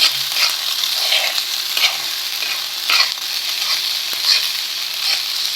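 Eggs with sardines frying in a pan, a close steady sizzle with intermittent scraping and stirring strokes, no speech.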